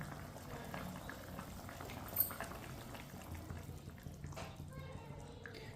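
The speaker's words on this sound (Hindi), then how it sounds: "पानी को बॉयल आ चुका है।" Water coming to a boil in a pot on a kitchen stove while matar chicken is being cooked, a low steady bubbling hiss running throughout, with a brief click partway through.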